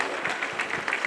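Spectators clapping at a village boxing match for women's bouts in Zacatepec Mixe, Oaxaca, a dense burst of applause from a crowd at moderate distance, steady throughout with no talk.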